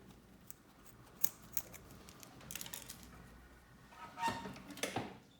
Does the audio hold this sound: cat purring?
no